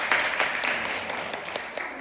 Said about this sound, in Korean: 박수로 한 번 더 환영해 주세요.